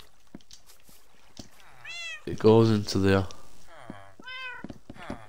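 Cats meow in the Minecraft video game, several short mewing calls before and after a louder spoken phrase, with a voice talking over the middle and faint game clicks around them.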